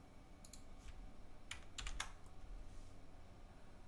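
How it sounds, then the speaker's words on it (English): Quiet keyboard typing at a computer: a handful of sharp key clicks and taps, some in quick pairs, over a soft, steady room background. "Now select it. And now use the arrow keys to arrow it down out of the way."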